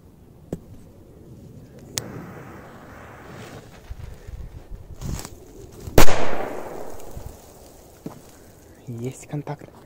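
A big firecracker bursts in sand outdoors, one sharp loud blast with a short gritty spray afterward, set among smaller pops and clicks, wind noise and people talking nearby.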